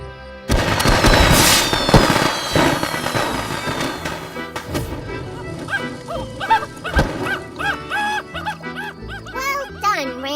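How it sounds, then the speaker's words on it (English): Cartoon fireworks at a community celebration: a loud burst of crackling pops and whistling launches in the first seconds, then fading under a sung melody and cheerful voices. "Got the fireworks?"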